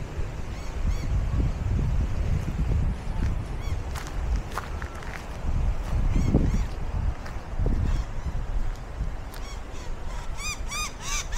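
Agitated birds call at Bonnie Vale Campground with repeated loud honking and cawing cries in scattered bursts, some close and some farther off, over rustling ground noise and footsteps.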